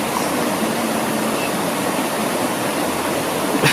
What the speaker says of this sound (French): Et vous avez le ruisseau là qui part sur la droite.